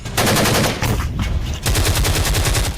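Rapid bursts of machine gun fire along the India-Pakistan border, loud and close, two sustained volleys separated by a brief gap, no voices.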